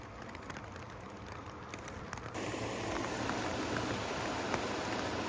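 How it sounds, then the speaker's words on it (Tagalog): Heavy rain falls on a river during fishing, a dense wash of hiss and patter that grows louder partway through and then holds steady. "nalakas pa rin ang ulan"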